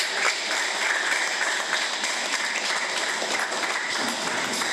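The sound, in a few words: applause at a quinceañera mass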